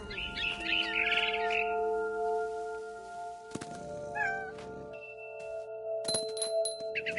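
A barn swallow chirps in the video game What Remains of Edith Finch, short high twittering bursts near and fairly clear, alongside a cat's meow and a low background hum.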